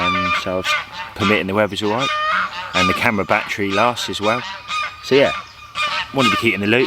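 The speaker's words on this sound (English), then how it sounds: "You can hear the geese in the background going absolutely mental" Geese honk loudly and repeatedly at Menards Fishery, a carp fishing lake, in spring, raucous overlapping calls close by while someone talks throughout.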